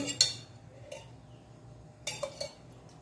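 A metal frying pan (bandli) set down on a kitchen stove, giving two short clanks with brief metallic ringing, quiet and close, with a small clink in between.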